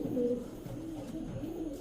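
Two male silver pigeons coo in a soft, continuous, low rolling murmur, close at hand and without talk.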